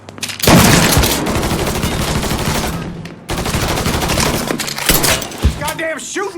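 Heavy gunfire in the video game Mafia 3, a loud, sustained rattle of automatic shots that runs for several seconds, pauses briefly and then resumes as a dense barrage, with shouting voices faintly mixed in.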